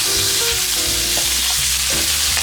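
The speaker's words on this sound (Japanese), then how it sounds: "周りをぐるりと焼いていきます。" Pork pieces sear in hot oil in a pan, turned side by side before being stewed in soy sauce; a steady close sizzle and crackle runs throughout with soft clinks of the pan or utensil, no voices.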